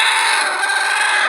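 A brooding village hen sitting on a nest of eggs gives a loud, harsh, hissing cluck at close range, one sustained burst of about a second that cuts off abruptly.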